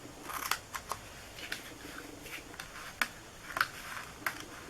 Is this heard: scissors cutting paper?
yes